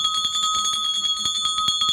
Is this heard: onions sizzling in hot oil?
no